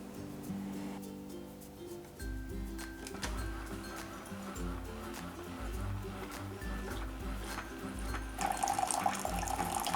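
A Keurig 2.0 coffee maker brews a 6-ounce cup of water, a low pulsing pump rumble under steady trickling and hissing flow, close and fairly quiet, with faint talk in the background.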